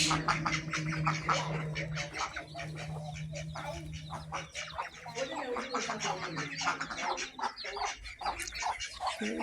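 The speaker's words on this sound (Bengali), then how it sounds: "এগুলো হচ্ছে আমাদের হাঁস" A flock of domestic ducks quacks in a dense, continuous chorus of overlapping calls throughout, with a faint steady hum underneath.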